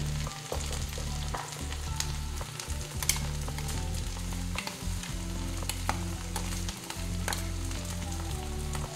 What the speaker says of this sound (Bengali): এবার এই মশলাটা দিয়ে দেবো।